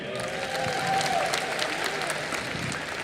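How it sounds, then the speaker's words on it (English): An audience at the closing ceremony of the 53rd International Film Festival of India applauds a veteran actress, steady moderate clapping from a crowd with faint voices and a brief tonal sound partway through. "Round of applause once again."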